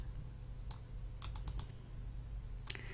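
A computer mouse clicks during work in a database program, a few quiet sharp clicks in close pairs and small groups over a low steady hum, with no talk.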